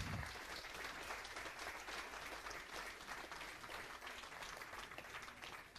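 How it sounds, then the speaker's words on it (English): Audience applause for a fourth-place shooter at a 10 m air rifle mixed final, continuous dense clapping from the crowd, even and sustained for several seconds, fairly quiet and heard from a distance. "Big applause for him."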